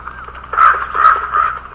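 Three harsh caws from a bird in the survival video game Don't Starve, evenly spaced, loud and close, with no one talking over them.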